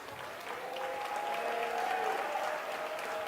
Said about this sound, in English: give my brother, your brother, a nice round of applause for Ali the Great